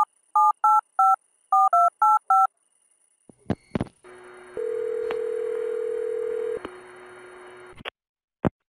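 A telephone number is keyed in as a quick series of DTMF tone beeps in two bursts, followed by a steady ringback-style tone and a final click, with no one speaking.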